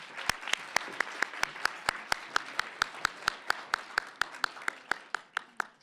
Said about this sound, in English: Please join me in another round of applause for all of these achievements.